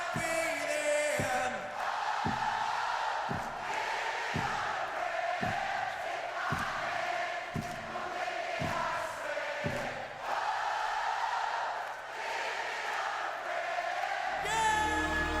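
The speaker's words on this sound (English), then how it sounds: "listen to this crowd" A huge arena crowd at a live show in 2012 sings along, a massed roar of voices carried over steady thumping drum beats, heard from a distance.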